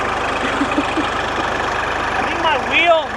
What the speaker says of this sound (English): Your microphone is too close to the tractor.